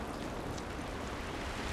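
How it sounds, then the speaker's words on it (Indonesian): Steady rain hissing down in The Last of Us Remastered, a dense, even wash of noise filling the whole moment at a constant level with no voices over it. "It's raining, but it wasn't good."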